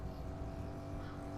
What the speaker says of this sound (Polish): Auto się zbliża.